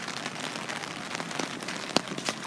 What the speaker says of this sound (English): this is not even the tip of the rain that's coming down